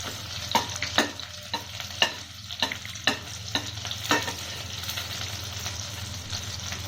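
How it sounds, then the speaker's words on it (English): Butter and garlic cloves sizzle in a hot pan on the flame, a soft frying hiss broken by frequent sharp clicks and scrapes of stirring, close and fairly quiet. "Add butter. Add the garlic cloves."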